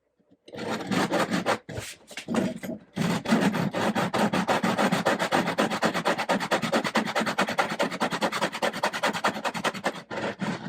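Bridge feet for a 1953 Gibson L-50 guitar rubbed across sandpaper, a close, loud, steady back-and-forth scraping that runs almost unbroken after a couple of brief pauses near the start.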